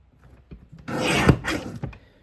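A trimmer blade slicing through a strip of scrapbook paper for a page kit, a single close, dry scraping rasp lasting about a second, faint and alone.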